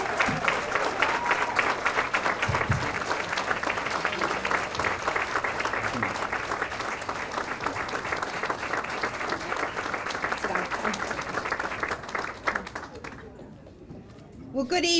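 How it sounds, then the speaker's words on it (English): A standing audience gives sustained applause for a city councilor at large, a dense, even roar of clapping for about twelve seconds that then thins and dies away, with some voices mixed in. "please stand and give a big round of applause to your Councilor at Large, Diane LeBlanc."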